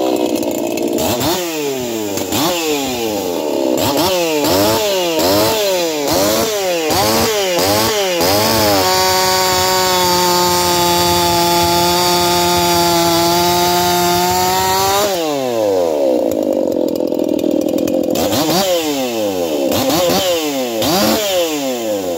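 A ported chainsaw makes repeated test cuts, the engine bogging and revving in rapid cycles, then holding a long steady high-pitched whine under load before returning to choppy revving; loud and close throughout.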